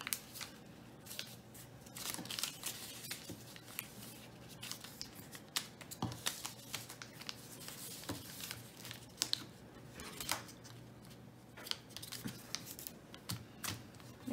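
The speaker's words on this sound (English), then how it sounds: "take each corner and fold it to the middle again" Paper being folded and creased into a cootie catcher fortune teller, with soft crisp crinkles, taps and sliding rustles close by, quiet and intermittent.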